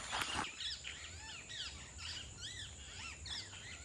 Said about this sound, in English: Oh wow, look at the parrots.